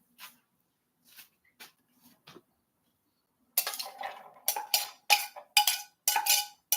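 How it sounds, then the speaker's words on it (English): A few light taps, then a burst of repeated clinking and scraping of food against a metal pan on a stovetop, close and fairly loud, with no sizzling. "so I'm going to put it into the pan."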